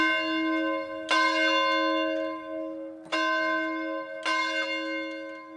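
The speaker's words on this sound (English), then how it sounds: "taken turns ringing the 1825 bell in the tower of the Bolton Community Church" A large 1825 church tower bell rings three times, each strike loud and clear, its rich ringing tone lingering and fading between strokes.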